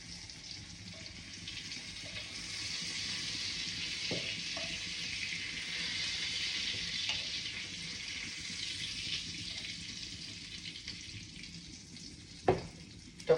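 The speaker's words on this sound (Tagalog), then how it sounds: "Prito ulit tayo." Chicken breast fillet fries in a pan with a steady, soft sizzle throughout, broken by a few light clinks and a sharper knock near the end, quiet and close with no talk.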